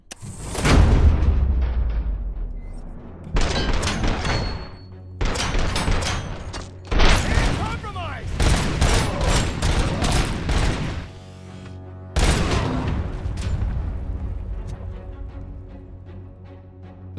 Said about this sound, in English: I guess he fucking died in that sweet explosion